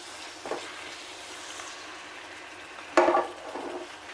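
Utensil stirring a pot of meat sauce with oregano, a couple of scraping, clattering strokes against the pot over a quiet background.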